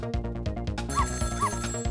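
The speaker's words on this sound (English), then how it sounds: "answer the phone!" A telephone rings in the video game Ghost Trick, with repeated electronic bursts of ringing over a steady game music backdrop, fairly loud and with no one speaking.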